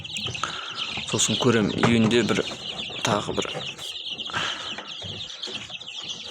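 Chicks and hens on a Kazakh poultry keeper's farm, with busy chirping and clucking close by, woven under someone speaking Kazakh with some Russian.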